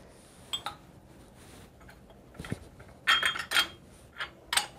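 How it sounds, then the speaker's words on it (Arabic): Two ceramic coffee cups are set down side by side on a kitchen counter, making a few light clinks and taps that are sharpest near the end, with quiet room tone between them. "وبعد كده نحط الفنجانين دول جنب بعض عشان ما يتكسروش"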